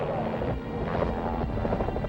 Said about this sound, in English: the chopper turns around for one last sweep over the water